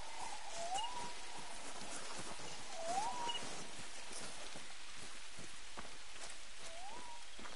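Steady rain falls on surfaces outdoors, a continuous patter at moderate level, with a few rising bird calls heard over it.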